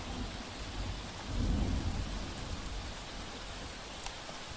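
Rain falls steadily in Surat, India, making an even hiss, and a low thunder-like rumble swells briefly partway through. No voices are heard.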